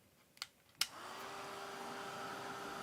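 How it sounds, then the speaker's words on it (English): A hair dryer switches on after a couple of sharp clicks and then runs as a steady, close whooshing hum, drying a watercolor painting. "let me get the dryer and let me dry the painting"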